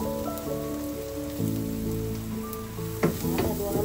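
Flour sizzling as it goes into a pan of hot onion and liquid for mac and cheese, a dense close crackle with a few stirring clunks and scrapes.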